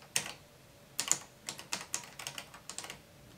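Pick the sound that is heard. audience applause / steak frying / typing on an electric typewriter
typing on an electric typewriter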